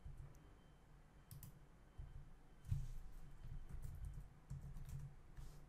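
Quiet, close typing on a computer keyboard in Excel VBA code, irregular bursts of soft key clicks with brief pauses between them.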